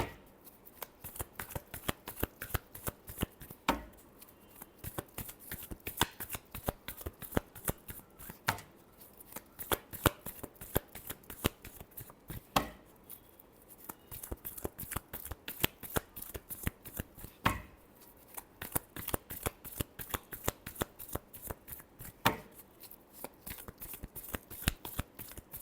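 Tarot cards being shuffled by hand in a steady stream of rapid riffling flicks and taps, close and continuous, with no talking.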